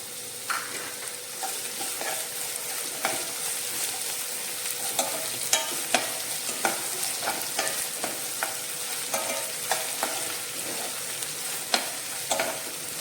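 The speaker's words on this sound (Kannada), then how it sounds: "ಬ್ರೌನ್ ಕಲರ್ ಆಗಿ ಇಟ್ಕೊಂಡು ಈರುಳ್ಳಿನ ಬ್ರೌನ್ ಕಲರ್ ಆಗಿ ಇಟ್ಕೊಂಡು" Onion frying in a pan for tamarind rice, with a continuous hiss of oil and regular scraping clicks as a spoon stirs it, close and steady throughout with no talking.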